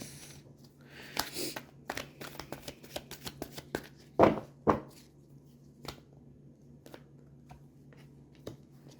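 Tarot cards being shuffled by hand in short crisp riffling bursts, with a louder pair of card snaps in the middle, close and quiet against a faint steady hum.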